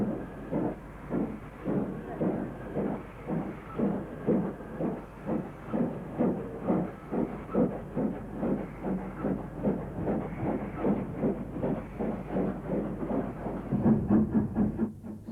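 Britannia steam locomotive 70031 at Birmingham New Street, a steady run of rhythmic chuffing and hissing steam bursts, moderately loud and close, with no talk.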